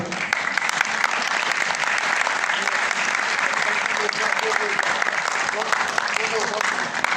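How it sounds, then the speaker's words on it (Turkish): An audience gives sustained, dense applause for saz musicians at a Turkish music performance, loud and steady throughout with a thick wash of many hands clapping at once. "onlara coşkulu alkışlarımızı, teşekkürlerimizi peşin peşin sunalım"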